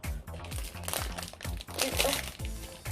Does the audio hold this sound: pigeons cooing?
no